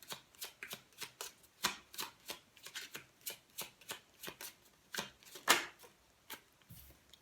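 Tarot cards shuffled by hand, a rapid run of sharp, close riffles and slaps in a quick uneven rhythm, fairly quiet with no talking.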